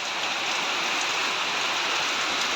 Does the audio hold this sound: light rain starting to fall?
yes